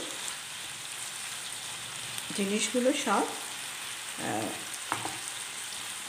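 Chopped onions sizzle in a pan while paneer and vegetables cook, giving a steady soft frying hiss throughout, with brief bursts of a woman's speech over it.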